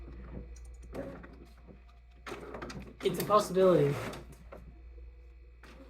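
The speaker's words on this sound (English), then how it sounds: "Let's just turn the printer off." A printer whirs and clunks mechanically for a few seconds in a quiet room, loudest in the middle, while someone speaks over it.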